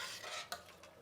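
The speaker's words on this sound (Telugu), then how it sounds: "ఇప్పుడు ఇది వేసాం కదా, ఇది కొంచెం కలబెట్టేద్దాము." Peas are stirred into bisi bele bath in a pot with a spoon, giving a soft scraping swish and one sharp clink of metal on the pot, quiet and close.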